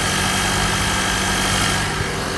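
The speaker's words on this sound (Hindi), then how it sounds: "और जब आप इसका इंजन या मोटर को स्टार्ट कर देते हो तो आप रिफाइनमेंट सुनो भाई इसकी।" A Honda ZR-V engine, rated at 184 bhp, idles just after starting, giving a steady, even, low hum and broadband rumble that holds without revving for the whole short stretch.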